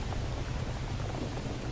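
Steady, dense rain hiss in the Roblox game Horrific Housing, summer edition, continuous and fairly even throughout with no voices.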